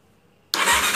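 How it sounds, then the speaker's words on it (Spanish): Honda Tornado XR 250 motorcycle engine suddenly catching after silence, bursting into a loud, close, steady running roar for the last half second. "Arrancamos la moto."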